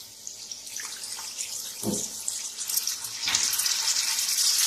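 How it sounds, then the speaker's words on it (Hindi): Water pours into a cooking pot of minced beef, a splashing, hissing stream that swells midway and grows steadier toward the end, heard on its own. "अब इसमें शामिल करेंगे हम दूसरा पानी"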